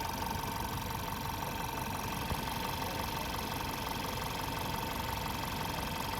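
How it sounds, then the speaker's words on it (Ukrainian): A Skoda Fabia engine idles after servicing, including a replaced water pump and refilled antifreeze, giving a steady, even hum with a faint rhythmic ticking that holds unchanged throughout, with no voices. "Двигун працює рівненько, все як має бути."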